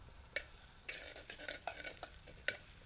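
Crushed garlic fries in oil in a village kitchen, a quiet crackling sizzle punctuated by several sharp metallic taps and scrapes of a spoon stirring against the pan.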